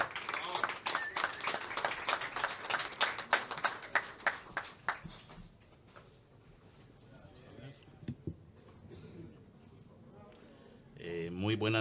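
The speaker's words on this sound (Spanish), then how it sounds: "Un gran aplauso a Gustavo Arroyo" A crowd applauds at a poetry evening at Casa Parker in Alajuela, with dense clapping for about five seconds that then thins out and fades, followed by someone speaking.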